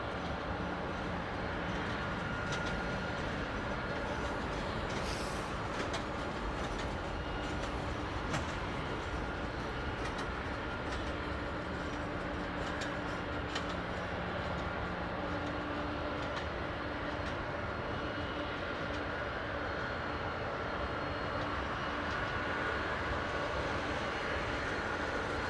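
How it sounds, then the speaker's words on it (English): A jet airliner, which first entered service with Hawaiian Airlines, idling and taxiing at London Heathrow Airport, with a steady broad engine roar and a high whine heard from a distance and no talk. "Nick Ray, this jet entered service with Hawaiian Airlines"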